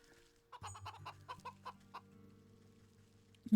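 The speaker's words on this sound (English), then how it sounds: "Can I do anything with the chicken?" A chicken clucking in the video game Wytchwood, a quick run of six or seven short, soft clucks over a low hum, quiet and alone, ending in a louder thump.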